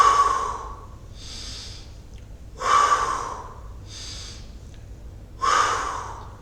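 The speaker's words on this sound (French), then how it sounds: "Pareil, je place la respiration." Three slow, deliberate breaths, each a soft airy exhale, spaced a few seconds apart during a gentle gym exercise in a calm fitness class, close and with no talking over them.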